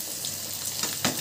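Fish pieces sizzle and crackle in hot oil, a soft steady fry with a few small pops and a brief clatter near the end.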